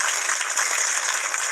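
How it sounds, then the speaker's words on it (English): Audience applause, a steady wash of many hands clapping at close range, filling the whole short stretch without pause. "Look at them clapping."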